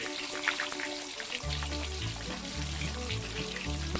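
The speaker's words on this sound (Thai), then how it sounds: "น้ำมันร้อนพี่เบาก็เอาปลาเทลงไปเลย" Tilapia dropped into hot oil in a covered pan, setting off a loud, steady crackling sizzle that continues with popping bubbles.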